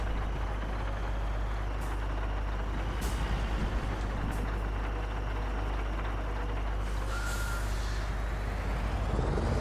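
Scania P500 truck in Construction Simulator, a heavy steady engine rumble that runs throughout, broken by several short hissing bursts of air brakes, close and loud with no talk.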